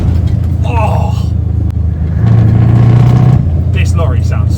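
Deep rumble of a Scania lorry engine passing close by, swelling loud for a second or so in the middle, with excited voices before and after.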